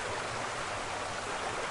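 Heavy nonstop rain pours down in a dense, unbroken roar of rushing water, like a flood, loud and steady throughout.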